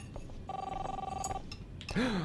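A telephone rings in Life Is Strange with a rapid trilling bell, one burst of about a second over a murmuring background, followed by a brief gliding voice sound.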